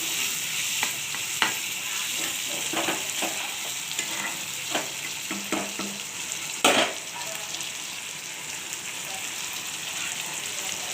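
Fish oil and fish roe fry in a pan, a soft steady crackle and hiss with scattered spatters and a few scraping stirs, fairly quiet throughout.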